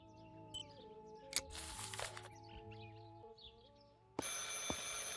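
A telephone in the wartime Tuscany-set horror game Martha Is Dead starts ringing abruptly near the end. It rings loud and close, cutting in over a quiet, sustained musical score.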